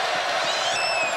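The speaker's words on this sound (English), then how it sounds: "And a sellout crowd bearing down on him here in Waco" A sellout college basketball crowd in Waco roars during Baylor against Houston, a steady, dense wash of cheering that fills the whole brief moment.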